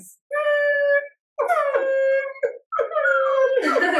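A dog whines and howls in three drawn-out, wavering cries separated by short pauses, close and fairly loud, with no talking.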